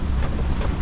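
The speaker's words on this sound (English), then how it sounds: "and it's windy." Wind gusting across a sailboat at sea in rough weather between Fiji and Vanuatu; a short burst of steady, close roaring buffeting, with no voices.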